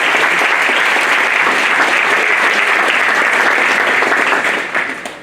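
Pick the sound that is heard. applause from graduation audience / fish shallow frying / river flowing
applause from graduation audience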